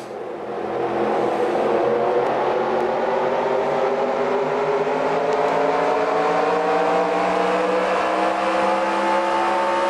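Stock car engines scream at sustained high revs in NASCAR Racing 2003 during the New England 300, a dense, continuous drone with slowly rising pitch as several cars race together, loud and steady throughout.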